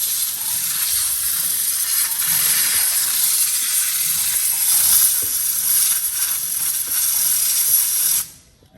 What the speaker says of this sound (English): I'm just gonna take a little compressed air and just kind of blow the stuff out that needs to dry